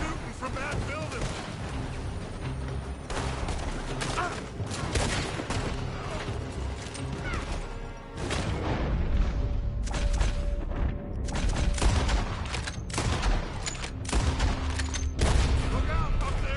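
Sustained gunfire pours from a building in Red Dead Redemption 2, a long rolling series of loud rifle and pistol shots with echoing reports and intermittent bursts, mixed with game voices calling out.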